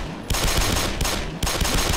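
Rapid automatic gunfire in the video game Black Mesa, loud sustained bursts of machine-gun shots with a brief gap near the middle, no talking.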